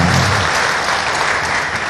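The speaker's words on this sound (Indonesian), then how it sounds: "berikan aplaus dulu dong" Audience applause at a church seminar talk, dense continuous clapping from a crowd filling the whole stretch at a loud, even level.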